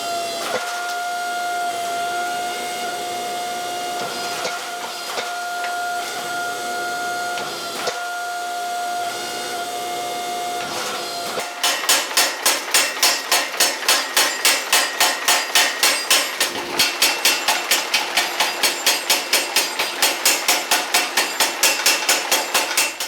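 Mild steel billets are forged square into axe bodies, first under a steady machine hum with occasional knocks, then a power hammer pounding in fast, even, loud strikes for the second half.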